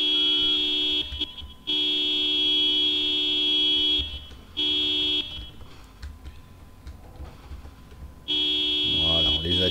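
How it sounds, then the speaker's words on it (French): Repeated car horn honks in a zombie video game, sounded to lure the undead toward a parking lot; several long, loud sustained blasts with short gaps between them. "on klaxonne pour les attirer"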